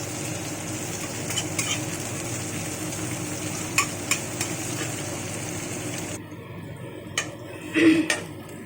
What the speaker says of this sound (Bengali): পেঁয়াজ কুচিটা বেশ একটু লাল করে ভেজে নেবো